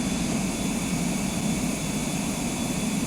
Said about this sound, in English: Those engines sound absolutely sublime.